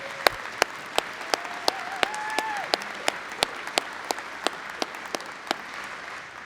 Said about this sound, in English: Let's give your president and trustees a big round of applause.